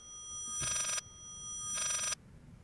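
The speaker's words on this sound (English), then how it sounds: "There's a telephone ringing." An old-fashioned telephone rings in the Layers of Fear horror game, two clear bursts of bell ringing with a pause between them over a quiet, eerie background.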